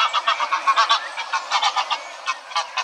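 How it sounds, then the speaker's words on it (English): A flock of greylag geese honks repeatedly overhead in flight, overlapping calls in an irregular rhythm, moderately loud with no talking. "Here's an example of the grey-legged geese that were flying over,"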